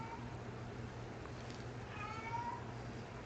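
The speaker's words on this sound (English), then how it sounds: "That's my cat meowing." A cat gives a soft, somewhat distant meow against a quiet room hum, one drawn-out call rising near the end.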